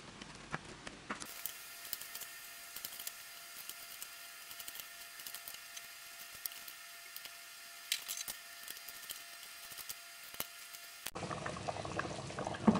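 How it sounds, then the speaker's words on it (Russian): Vegetables and mackerel in a pot boiling steadily, a soft continuous bubbling and popping heard close and quiet, with no talking. "У меня здесь уже все хорошо кипит."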